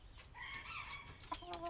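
A pet frizzle chicken clucks and makes short, wavering calls up close, with a soft rustle at the end.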